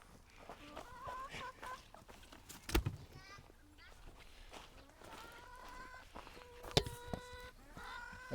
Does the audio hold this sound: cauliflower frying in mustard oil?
no